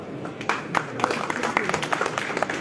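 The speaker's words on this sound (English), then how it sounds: "a big round of applause for spreading joy" Guests at a book launch held at a jewellery trade show give a round of applause, scattered but steady clapping from a modest crowd, with speech and crowd chatter running beneath it.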